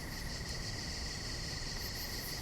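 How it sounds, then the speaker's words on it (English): Steady, high-pitched insect chirring with a continuous buzzing drone, like cicadas or crickets droning on a warm night, unbroken throughout. "Cicadas answered as if a warning."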